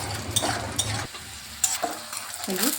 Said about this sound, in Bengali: বাদামটা লো ফ্লেমে সুন্দর করে বেজে নিচ্ছি